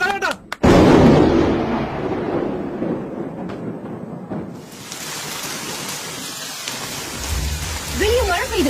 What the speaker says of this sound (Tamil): வெளியே மழை பெய்யுது